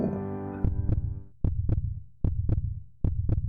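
A heartbeat sound effect from the Space Quest video game thumps in a steady, loud double-beat rhythm over a low hum, following a brief tonal note at the start.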